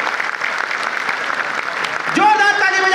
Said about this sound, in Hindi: का स्वागत करिए, जोरदार तालियों से